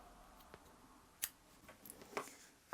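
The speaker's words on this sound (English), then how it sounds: "we want to chain 1 and snip off our yarn" Scissors snip through crochet yarn, a faint quiet cut followed by a few soft handling rustles and small clicks, close and alone.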